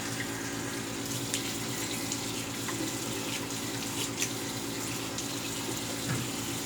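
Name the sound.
tap running, cold water rinse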